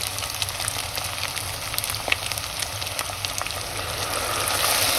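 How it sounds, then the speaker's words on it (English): Wine poured into a hot pan of browned meat hisses and sizzles steadily, a dense crackling fry with small pops that swells slightly toward the end, close and moderately loud with no talking. "You can see that this noise tells that the meat was browned probably because the wine immediately finish the steam."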